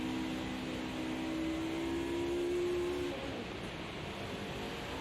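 Sim racing car in Automobilista 2 on a wet track, its engine holding a high sustained whine for about three seconds before dropping off, under steady road and spray noise.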